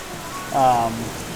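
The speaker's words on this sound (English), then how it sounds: "But the rain picked up really gnarly again" Heavy rain falls in a steady, dense hiss that fills the whole moment, with a brief tonal squeak rising over it partway through.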